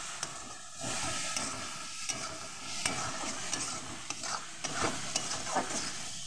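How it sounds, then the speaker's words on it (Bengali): A spice paste with turmeric sautés in a pan, a continuous gentle sizzle and hiss punctuated by repeated scraping strokes of a spatula stirring it. "এবার এটা আমি ভালো করে কষিয়ে নেব"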